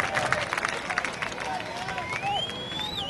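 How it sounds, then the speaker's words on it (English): Fans of the Heppner/Ione team at a 2A/1A high school softball championship cheer and clap in the distance, a soft, steady crowd noise with a few claps and a rising whistle, underneath close-up announcer speech. "these Heppner fans cheering every pitch"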